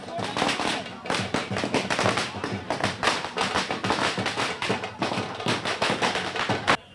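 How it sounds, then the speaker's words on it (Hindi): Firecrackers go off at a BJP workers' celebration, a rapid, loud string of sharp bangs crackling almost continuously for several seconds before a final burst and sudden stop. "आप देख सकते हैं यहाँ पर पटाखे जलाए जा रहे हैं, जश्न का माहौल है"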